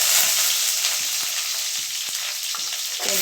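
Chillies fry in hot oil for ridge gourd chutney, a bright continuous sizzle broken by several spoon knocks and scrapes against the pan at irregular intervals, close and without talking.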